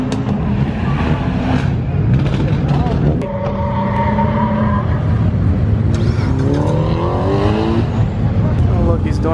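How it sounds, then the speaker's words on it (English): At a car meet, a car does a burnout, its engine revving in rising and falling surges as tires squeal and scrub in long wavering tones. Crowd chatter and voices carry underneath. "he's doing a burnout through here now"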